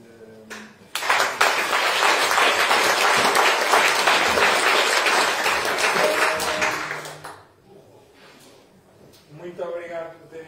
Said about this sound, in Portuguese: foi mesmo bom sentirmos o calor das palmas todos